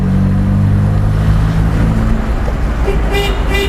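An old, unmodified stock petrol car engine runs steadily at high RPM in a higher gear, with a loud, continuous drone and hum from start to finish; a short horn-like tone briefly rises near the end.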